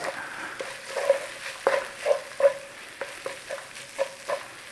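Water hits minced beef frying in a hot pan for a Big Mac pie filling, giving intermittent sharp sizzling bursts and scraping stirs over a steady low crackle, close up with no talking.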